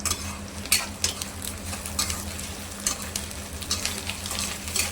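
Curry leaves and onions frying together in a hot pan for tomato thokku, a steady loud sizzle with occasional scrapes and clinks of a spoon stirring against the metal, no voices.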